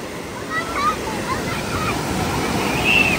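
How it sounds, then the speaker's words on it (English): Ocean waves wash onto a beach in a loud, steady roar of surf that swells slightly toward the end, with voices faintly audible under it. "Honey, the waves have knocked them out."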